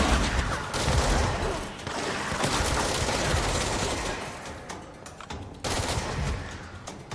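Gunfire in the video game Control: dense, continuous bursts of rapid shots over several seconds, loud and close, with brief pauses between volleys and no talking.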